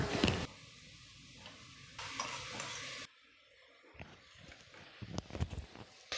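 Onions, green chillies and ginger-garlic paste sautéed for a Kerala chicken curry, giving a close, steady sizzle with bursts of stirring and spoon scrapes against the pan, alone with no talk.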